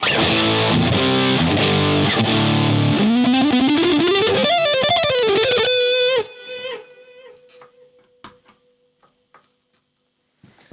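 Loud overdriven electric guitar chords and a bending lead line through a DOD 250 reissue overdrive pedal, then the distortion cuts off, leaving a faint sustained note and scattered clicks.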